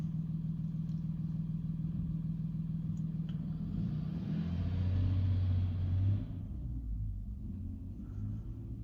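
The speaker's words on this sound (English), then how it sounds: "there's a bus right beside me." A bus engine idles nearby as a deep, steady rumble, swelling briefly as if revving or pulling away mid-way, then settling back to a low drone.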